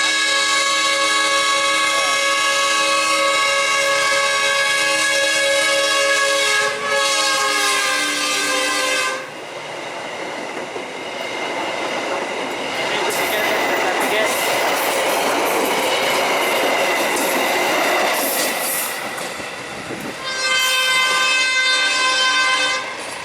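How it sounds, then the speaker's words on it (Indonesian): Electronic train sounds from a mobile train game: a sustained horn-like toot with stacked steady tones, then a rumbling rolling-rail passage, ending with another horn blast, all loud and close. "Ada kereta api guys."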